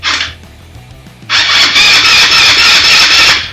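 An old Chinese quad bike that sat unused for years is pull-started, and its engine catches after a brief rev and a pause, then runs loud and steady close by.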